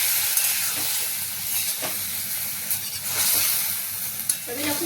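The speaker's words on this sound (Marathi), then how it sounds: "त्या पद्धतीने मी तुम्हाला आता ही पण दाखवते फ्राय करून।" Kulith (horse gram) shengole dumplings fry in hot oil, giving a steady close sizzle with scattered stirring clicks and scrapes throughout, and no voices.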